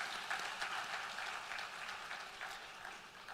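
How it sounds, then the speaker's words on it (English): Audience applause for sponsors at the official opening of a National Cyber Security Awareness Month event: steady, fairly quiet clapping from a hall crowd, lasting throughout and tapering slightly at the end. "I think they deserve a round of applause,"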